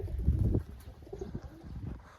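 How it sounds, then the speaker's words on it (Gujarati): Two pigeons perch and coo, low throaty murmurs repeating in short pulses close by, with faint wind and no talk. "અને બે કબૂતર અહીંયા બેઠા છે"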